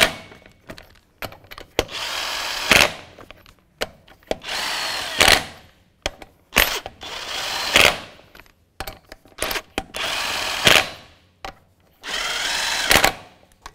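Ratcheting bursts from a 22mm socket wrench working the passenger upstream O2 sensor on a 2015-2020 GMC Yukon XL, a dozen or so short loud clicking spells separated by pauses, close by with no talk.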